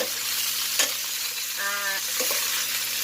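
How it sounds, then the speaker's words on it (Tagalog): Pork pata being stirred with onion and garlic in a pan for humba, with a steady sizzle of frying underneath a few scraping stirs of a utensil, close and without talk. "I-mix lang natin para mag-absorb ang ating"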